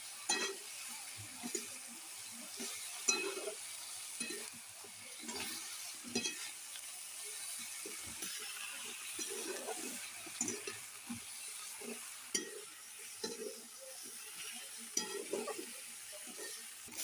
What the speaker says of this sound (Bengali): তো হলুদ গুঁড়ো দিয়ে দিলাম, ভালো করে মিক্স করে দিলাম।